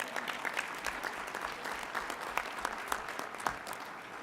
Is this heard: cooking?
no